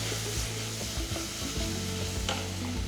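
Tomato and masala sizzling in a hot pan as they cook down, with a steady frying hiss and soft scraping stirs of a spoon, close and alone.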